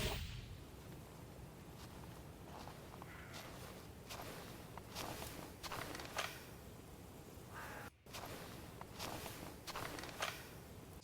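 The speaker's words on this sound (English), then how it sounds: "the footsteps are kind of just like very close mic'd and like kind of dead" Soft, close footsteps scuffing along at a steady walking pace, dry and dead-sounding over a constant low background hiss.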